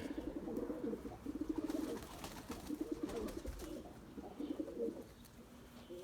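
Several limoni breeding pigeons coo in soft, repeated throaty rolls that come in short bursts close by, over a quiet backdrop with no voices.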